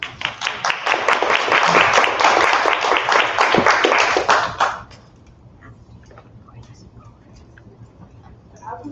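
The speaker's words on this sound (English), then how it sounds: "Let's give them a round of applause." An audience at a community reading event applauds loudly and steadily for about five seconds, then the clapping stops abruptly, leaving quiet room tone with faint stray sounds.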